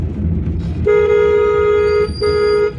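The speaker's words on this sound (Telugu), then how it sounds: "కొట్టండి హార్న్" A car horn blares in a long steady honk, breaks for a moment, then sounds again briefly, close and loud over city road noise.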